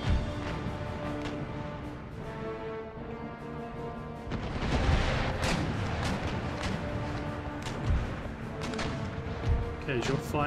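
Ship cannons fire a broadside in the Empire Total War strategy game, a rolling series of heavy booms and thuds that swells midway, heard under music and players talking.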